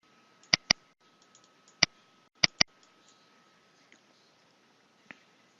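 A computer mouse button is clicked on a quiet desk: about five crisp, close clicks, some in quick pairs, with a couple of fainter ticks after and no talking.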